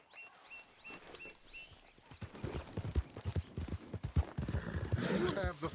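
Horse hooves clip-clop along with a whinny in a game scene, with faint music and background sound, growing busier and louder toward the end.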